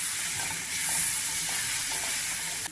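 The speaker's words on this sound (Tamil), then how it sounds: "அடுப்பை சிம்மில் வச்சு கிளறி கொடுத்துக்கலாம்" Grated raw mango being stirred in a pan over a low flame, a soft steady sizzle with gentle scraping strokes at an even pace.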